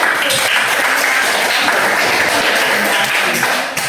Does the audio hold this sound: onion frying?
no